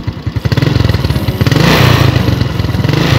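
A 2007 Suzuki Smash 110cc motorcycle engine revving close up, loud rapid pulsing exhaust that rises from idle into sustained throttle, then settles back, with no voices.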